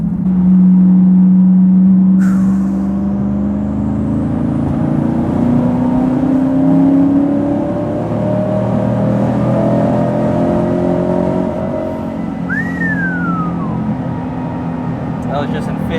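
A Chevrolet Corvette C8 making about 1000 rear-wheel horsepower pulls hard in fifth gear on a highway, heard from inside as a loud, sustained engine drone with rising tones and constant road rush.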